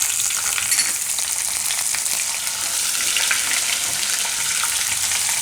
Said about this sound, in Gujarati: તો તેલમાં આપણે પહેલાં નાખીશું જીરું, ને લસણ, ને લીલા મરચાં